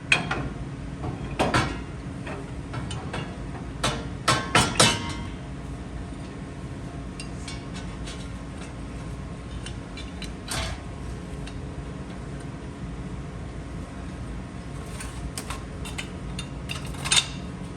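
Metal disc brake parts from a Right Stuff conversion kit clink and slide together on a 1960 Chevrolet Bel Air, with scattered mechanical clanks and creaks, a sharp cluster around the middle and lighter taps later, no talking.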